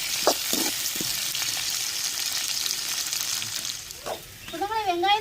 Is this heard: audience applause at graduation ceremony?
no